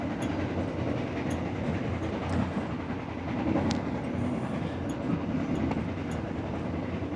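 Steady rumble of an executive-class passenger train in motion, heard from inside the carriage, with continuous low-frequency roll and faint rail clatter throughout, no voices.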